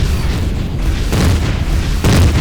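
Heavy plasma guns blasting in the space game Empyrion Galactic Survival, six cannons firing in deep booming bursts, loud and close, with a fresh blast landing at the end.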